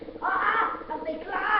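Crows caw in Call of Duty: Advanced Warfare, two harsh, close calls under an excited shout.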